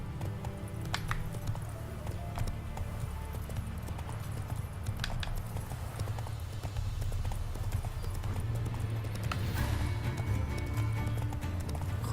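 Horse hooves from The Witcher 3 video game clip-clop in a steady galloping rhythm over a low rumbling game soundscape, loud and continuous throughout.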